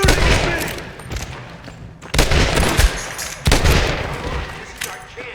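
Gunfire in the Western video game Red Dead Redemption Remastered: loud bursts of repeated shots and echoing blasts come in waves, with a voice shouting among them.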